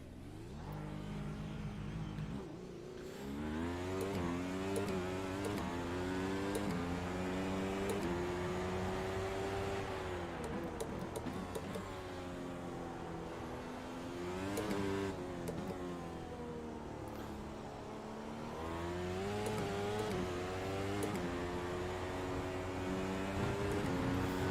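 An F1 race car in the sim game iRacing, its high-pitched engine screaming and rising through the gears, dropping on downshifts and climbing again, a loud continuous wail with no talk.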